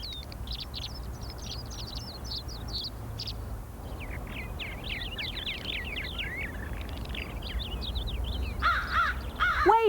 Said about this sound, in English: Wait a minute. Those are crows.